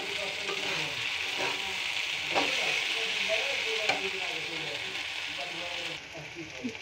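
Water spinach fries in a kadai and is stirred now and then, a continuous hissing sizzle with a few scraping spatula strokes, close and moderately loud, without any speech.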